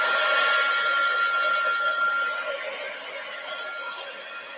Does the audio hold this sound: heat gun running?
yes